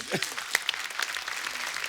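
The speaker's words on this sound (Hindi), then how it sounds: "जोरदार तालियां हो जाए" Short burst of applause from a TV comedy show studio audience, clapping at moderate level with a few sharper claps standing out.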